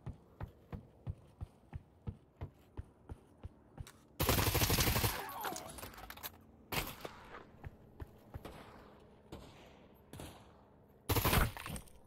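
Gunfire in Pavlov VR, a World War One offensive push: a steady rhythm of sharp single rifle shots, then loud bursts of heavy fusillade and machine-gun fire, with scattered shots between and a final close burst.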